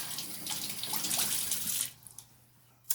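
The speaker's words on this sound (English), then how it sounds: "this filter too is washable, so you just have to run it under some water" Tap water runs in a steady hiss as a washable filter from a Eufy handheld vacuum is rinsed beneath it, then the flow stops, leaving a few faint drips and a final splash.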